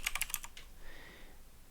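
Quick typing on a computer keyboard, a short burst of about six close clicking keystrokes that stops after half a second, leaving quiet room tone.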